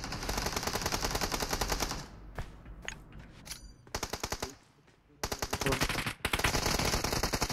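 Rapid bursts of automatic gunfire from the mobile battle royale game BGMI, loud and close, with a short lull midway before firing resumes in dense rattling volleys.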